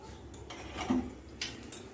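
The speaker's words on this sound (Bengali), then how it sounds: "ঘিটাকে একটু মিশিয়ে নিচ্ছি।" A spoon scrapes and clinks against a pot while ghee is stirred into chicken tehari, giving a few quiet, close metallic taps and scrapes spaced over a short stretch.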